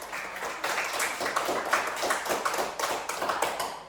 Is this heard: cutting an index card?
no